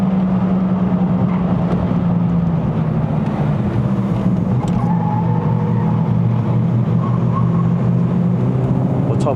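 A 2.0L Ford Focus MK3 Sport+ engine drones steadily from inside the cabin while driving a mountain road in Malaysia, its low hum holding even with a slight rise in pitch midway.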